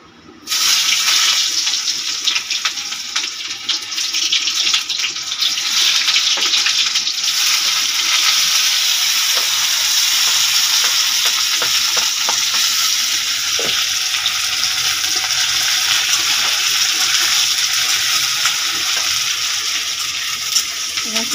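Onion and bay leaf frying in oil for an Odia paneer curry, a steady loud sizzle with crackling hiss running unbroken and close throughout.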